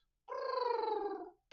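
A person voices a cat-like trilling purr, imitating a cat that trills instead of purring: one sustained, buzzing, slightly wavering tone of about a second, close to the mic, with another brief burst starting right at the end.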